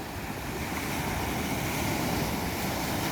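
Ocean waves and surf roll in steadily on a beach at San Fernando, La Union, a loud continuous wash with wind buffeting the microphone and no break in the roar.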